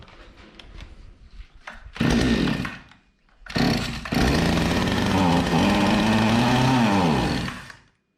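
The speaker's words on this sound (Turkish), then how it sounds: "Motoru yine deneyelim" Zomax chainsaw engine started after a new fuel filter is fitted, sputtering briefly, then catching and running loudly in two sustained bursts with wavering revs before cutting out.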